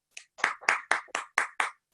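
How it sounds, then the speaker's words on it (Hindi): Audience applause welcoming a poet at a comedy event, seven crisp, evenly spaced claps in quick succession, fairly close and brief, with no voices. "जोरदार ताली से स्वागत करें संजय"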